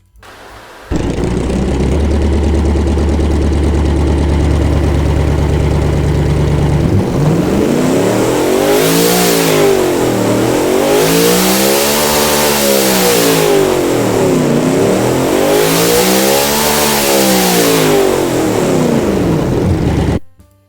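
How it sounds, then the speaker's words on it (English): In the car-building game Automation, a car engine idles with a low steady drone, then revs up and down repeatedly in loud, sweeping surges, close and unaccompanied. "I forgot to show how the car actually sounds."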